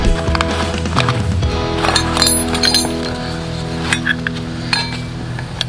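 Metal spanners clink and rattle together in the toolkit of a 1959 AJS Model 31 motorcycle, a busy run of close, bright metallic knocks and jingles with no pauses.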